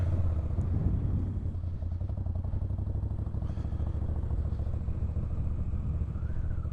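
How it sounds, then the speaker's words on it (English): A Moto Guzzi V7 III Rough motorcycle pulls away onto the road, its low engine throbbing steadily and loudly close by, with a slight rise in revs near the end and no speech. "So we'll get this bike into gear here and let's get her out on the road."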